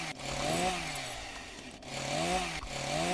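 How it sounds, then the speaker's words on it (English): A video game chainsaw weapon drones steadily, its motor pitch rising and falling in a few repeated revving cycles, fairly faint with no voices. "Wonder if now I can open this up now that I have a chainsaw."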